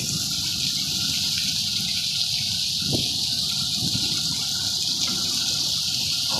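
Rain mixed with hail pours down steadily in Vashiyali, a dense continuous hiss and patter with a few heavier thuds, unbroken and fairly loud throughout.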